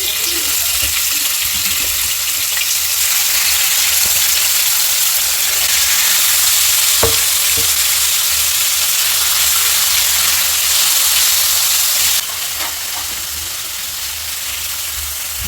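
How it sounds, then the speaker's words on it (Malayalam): Marinated chicken dropped into hot oil for homemade shawarma gives a steady, loud broadband hiss and sizzle throughout, easing slightly near the end, with an occasional faint clink of the pan. "പിന്നെ നമുക്ക് മാരിനേറ്റ് ചെയ്ത് വെച്ചിരിക്കുന്ന ചിക്കൻ വേവിച്ചെടുക്കാം"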